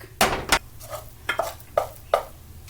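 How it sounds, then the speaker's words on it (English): A fork fluffs cooked rice in a bowl, giving five or six short, close scrapes and clinks spaced about half a second apart, alone and fairly loud. "put it into a bowl and fluff it up with a fork"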